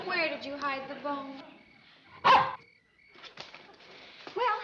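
Dog barking in a rural comedy scene, a single loud close bark between stretches of speech, with people talking before and after it.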